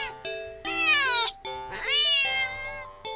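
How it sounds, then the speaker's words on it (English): A cat gives a series of sharp, loud meows up close, several rising and falling calls in quick succession with short gaps between them, and no voices over them. "the cat meows sharply at you"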